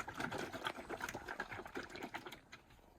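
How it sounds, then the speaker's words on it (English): A bottle of tubeless tyre sealant gets a vigorous shake, liquid sloshing in quick rhythmic bursts, close and fairly quiet with no talking. "So we are just going to give this a good shake,"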